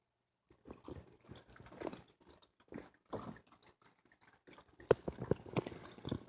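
A small waterfall in a Chinese water dragon terrarium trickles and drips into the enclosure, giving irregular splashes and droplets up close, faint and intermittent against near silence.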